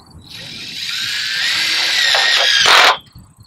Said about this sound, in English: and screw it in.